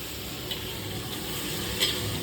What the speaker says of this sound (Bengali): ফুলকপি ভাজা হচ্ছে